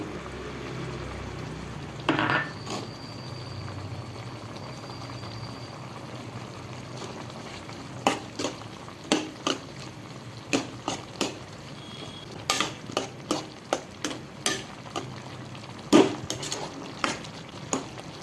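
Mushroom masala fries in a pan while a spoon scrapes and clinks against the metal in scattered bursts over a soft, steady background hiss.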